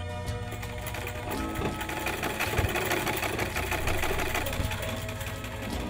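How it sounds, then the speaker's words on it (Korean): A shared village sewing machine in an Amazon tribal community hall runs steadily with a rapid mechanical whir and rhythmic stitching clatter, close and continuous throughout. "안악들이 옷을 지을 땐 마을 공용인 이 재봉틀을 사용한다고 합니다."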